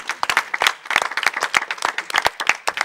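A church congregation claps together in a burst of applause, sharp irregular hand claps close and moderately loud, with no talking over them.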